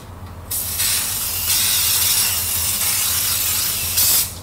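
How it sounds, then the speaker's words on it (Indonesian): Cooking oil is sprayed from a spray bottle in several hissing bursts, loud and close, in a home kitchen, with short pauses between sprays and no talk. "Jadi ini minyak, tapi nanti aku cuma cukup semprot spray gini."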